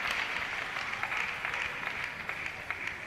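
Crowd cheering and applause fill a para table tennis championship hall after a point, a steady, fairly loud wash of claps and voices with no break.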